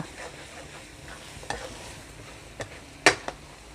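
Cabbage being stir-fried with chicken and glass noodles in a pan, a faint steady sizzle with a few scattered stirring scrapes and one sharper clatter near the end.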